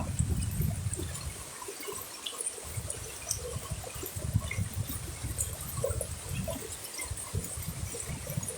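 Floodwater runs across a newly built earthen road during the 2024 Bangladesh floods, cutting away the soil. It makes a steady rushing, trickling wash with low rumbling surges, continuous and fairly faint, and no one talks over it.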